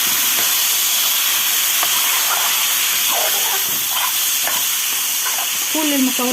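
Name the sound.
washed rice being sautéed with ingredients for koshari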